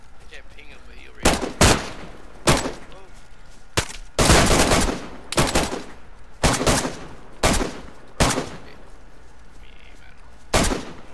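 Video game gunfire, a dozen or so sharp shots, some in quick pairs and short bursts, spread irregularly across the stretch, loud and close, with a player speaking briefly between them.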